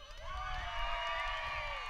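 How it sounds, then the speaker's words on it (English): A crowd cheering and shouting steadily at a 4A state tournament baseball game, a sustained roar of voices with whoops rising above it, heard from some distance. "You hear the crowd getting into it a little bit"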